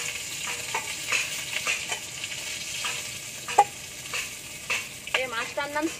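Shimul kata river fish sizzles in hot oil in a wok while being stirred, with a steady frying hiss and repeated scraping strokes of the spatula, a few sharp crackles near the end.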